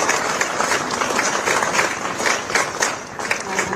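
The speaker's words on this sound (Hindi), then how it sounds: "जोरदार तालियों से उनका स्वागत करें।" An outdoor crowd at a public event in Yamkeshwar applauds in a dense, continuous burst of clapping that rises and falls slightly over a few seconds. A few voices mix in.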